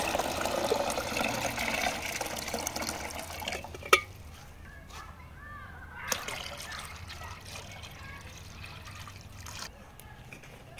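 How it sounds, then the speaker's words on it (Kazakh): Filtered water pours into a samovar at an outdoor cooking setting, a steady trickling, splashing flow that runs loud and continuous at first, then thins out with a couple of sharp knocks before quieter dribbling. "Фильтрленген судың барлығын самоварымызға құямыз."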